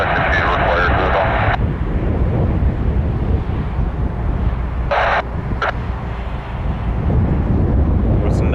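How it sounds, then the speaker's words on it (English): A 31-year-old airliner, delivered in November 1991, at Vancouver airport gives off a loud, continuous jet roar mixed with wind noise, with brief radio-like bursts over it. "31-year-old aircraft. Delivered in November 1991."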